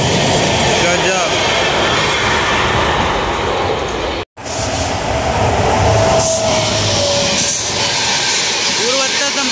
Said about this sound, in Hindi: पूर्वोत्तर संपर्क क्रांति एक्सप्रेस अलीगढ़ जंक्शन से निकलते हुए बहुत ही जबरदस्त